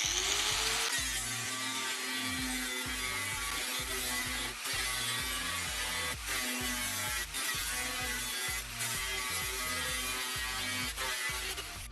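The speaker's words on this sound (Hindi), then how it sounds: "फिर इस सर्कल के निशान से इस टीन को कट कर लेंगे" A tin canister being cut along a marked circle, a steady grinding buzz with regular rhythmic pulses throughout, close and moderately loud.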